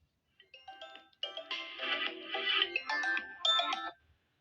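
A Vivo T1x smartphone plays a melodic electronic ringtone: bright, chiming synthetic tones in short bursts that build into a denser phrase, clean and fairly quiet against silence, starting and stopping abruptly.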